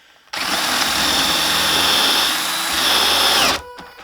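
A power drill with a brad point bit whirs loudly and steadily for about three seconds, its pitch dipping slightly as it bores in, then cuts off abruptly.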